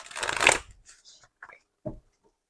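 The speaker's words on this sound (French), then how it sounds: "Je tire les cartes pour vous." Oracle cards being shuffled and drawn: a close, loud riffle of a card deck, then a few short, soft slaps and slides as single cards are pulled and laid down, with no talking.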